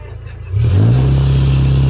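Engine of a 1989 Utilimaster Aeromate step van, low on fuel, kicks up from a quieter idle into a loud, sustained deep rev that holds heavy and strained, sounding bogged down rather than climbing freely.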